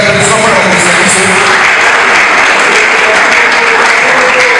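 Dense, loud audience applause at a youth entrepreneurship conference in a hall, continuous clapping filling the whole stretch with a faint crowd murmur underneath.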